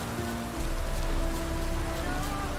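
Steady rain falling in The Witcher 3: Wild Hunt, a continuous dense hiss of droplets on surfaces with a faint tonal game ambience underneath, no talking.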